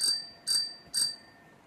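A bicycle bell rings three times in quick, even succession, each ring a bright metallic ding that fades fast, close and alone with no speech.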